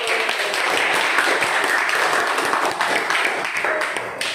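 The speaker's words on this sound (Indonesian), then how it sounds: "berikan tepuk tangan untuk" An audience applauds a group presentation in a classroom session, dense and continuous clapping at close range that holds steady for several seconds and tapers slightly at the end.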